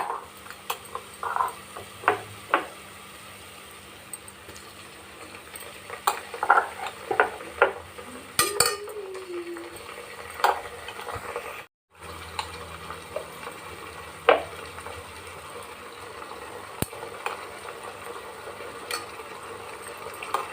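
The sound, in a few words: frying ginger garlic paste for mushroom biryani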